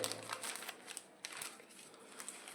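A page of a paper Class 12 physics model exam is turned, producing quiet, crinkly paper rustles with a few sharp crackles across a couple of seconds, with no one talking.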